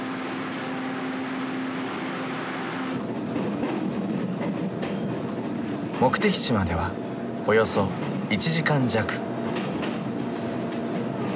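A local commuter train of Taiwan's TRA rolls along with a steady low rumble and hum, later joined by squealing and rattling bursts, while a narrator speaks over it.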